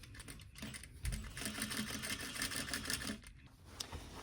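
Sewing machine stitching drapery fabric in a workroom, a close, steady mechanical run of rapid needle clatter lasting several seconds, with brief pauses and small clicks near the start and end.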